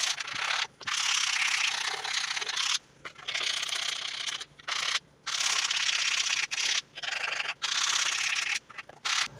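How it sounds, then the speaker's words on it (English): Sandpaper rubs along a leather edge before burnishing, making close, raspy strokes in a steady back-and-forth rhythm broken by short pauses between passes. "So I'm going to sand it, burnish, smooth, and then we'll re-dye it."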